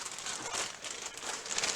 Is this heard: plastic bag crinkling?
yes